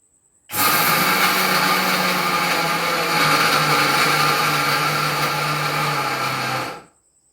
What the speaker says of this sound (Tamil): மிக்சியில் அரைக்கலாம்